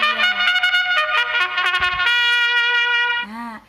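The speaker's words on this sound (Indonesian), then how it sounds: "Bunyi terompet atau alat musik terompet yang" A trumpet is blown in a short series of bright, sustained brassy tones with a few rapid articulated notes, loud and close, ending in a brief rising swell.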